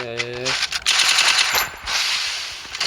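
Rapid gunfire from the Free Fire mobile shooting game, including shotgun shots, comes as dense bursts of loud cracks that are close and sharp. Short pauses break up the firing, and a brief tone sounds at the start.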